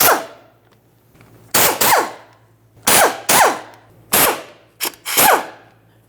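Impact or power tool loosening the rear driveshaft mounting bolts on a 2007-2013 Acura MDX 3.7L V6, five sharp close bursts of rattling at uneven intervals with quiet gaps between.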